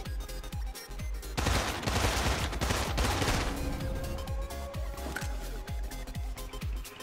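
Rapid gunfire from a gun in the Immortal Redneck first-person shooter, loud repeated shots in a steady rhythm with a dense burst in the middle, occasional voice beneath.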